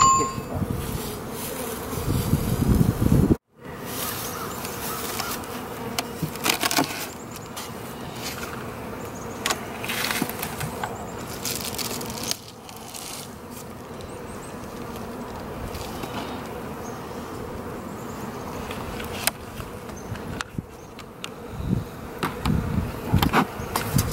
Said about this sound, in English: They're so nice and calm. Very nice bees.